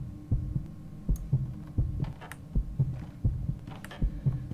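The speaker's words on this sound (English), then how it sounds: "hear a heartbeat all the time" A steady heartbeat sound effect in the video game Anna thumps in a regular double-beat rhythm, low and close, repeating about every three quarters of a second over a faint background hum.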